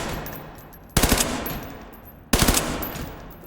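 Two loud, close bursts of rapid automatic gunfire in the game Ready or Not during SWAT training. Each burst is a quick string of shots, followed by a lingering reverberant tail.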